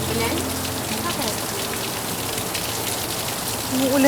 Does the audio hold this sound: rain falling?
yes